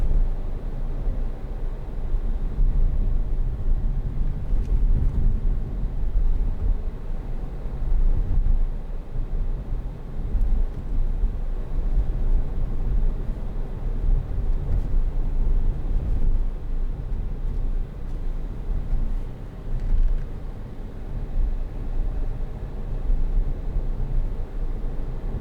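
A 2013 Hyundai ix35 1.7 CRDi 16v diesel heard from inside while driving: a steady, even low rumble of engine and road noise with a soft hiss on top, continuous throughout and with no talking.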